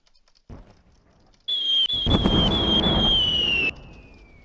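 A rocket strikes a ship in Roblox Warships. A soft thump comes first, then a sudden loud impact with a whistling, sweeping tone and a crackling burst that lasts about two seconds before it cuts off and fades.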